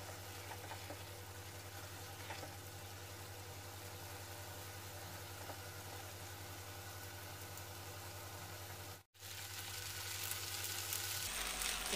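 Fried rice cooking over a high gas flame, a steady soft sizzle with an even low hum and occasional stirring, faint and continuous, cutting out briefly before returning louder near the end.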